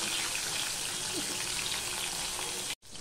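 Pieces of katla fish fry in hot oil with a steady, dense sizzle and crackle that runs close and even, breaking off abruptly for a moment near the end.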